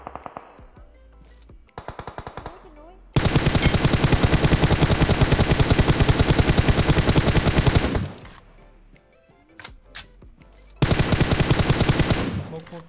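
Rapid automatic gunfire in PUBG Mobile, long sustained loud bursts broken by a few isolated single shots, up close, with brief excited talk between the volleys.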